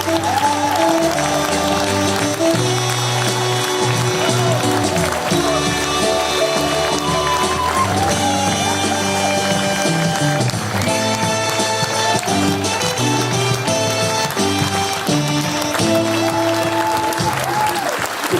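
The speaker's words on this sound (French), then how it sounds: "je vous demande d'accueillir sous vos applaudissements chaleureux l'immense Michel Galabru" Festival audience at a police film festival in Liège breaks into sustained, dense applause welcoming a veteran actor, continuous and loud throughout with music playing underneath.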